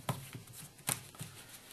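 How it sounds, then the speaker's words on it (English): A deck of playing cards riffled and pushed together during a card trick with the aces, giving a few soft, quiet clicks and brushes in a brief burst with a stronger snap near the middle. "You actually have to shuffle the aces in."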